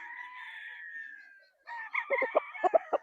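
A gamecock stag on a game farm gives a drawn-out crow, then after a short gap a second crow breaks into choppy, stuttering notes, close and clear.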